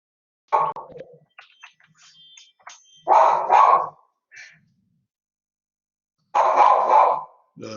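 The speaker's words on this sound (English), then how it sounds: "Excuse my guard dog." A guard dog indoors barks in three separate bursts of loud, sharp barks, with a few faint sounds between them and no talk.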